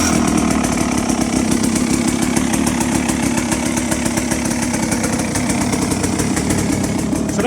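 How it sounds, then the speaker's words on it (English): A GPX 300R TSE motorcycle engine, a 2023 model, runs steadily up close after a quick start, with a loud, continuous buzzing drone that holds level throughout. "So that's how quickly it starts all of the time."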